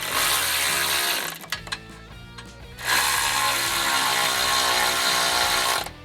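A 5mm Allen wrench turns a button head bolt on a skid plate clamp fitted to a Nissan Titan lower control arm, giving a loud, sustained grinding rasp, a short pause with a few clicks, then another long grinding stretch.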